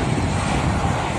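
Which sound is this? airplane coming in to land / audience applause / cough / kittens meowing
airplane coming in to land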